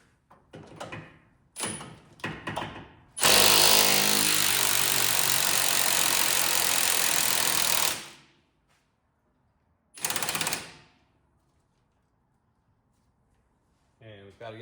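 Power tool loosening the 21 mm strut-to-knuckle bolt on a Mercedes C300, a loud impact burst of about five seconds followed by a shorter second burst, with clicks and handling sounds around it.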